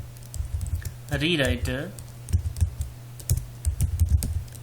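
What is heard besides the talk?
typing a project name on a computer keyboard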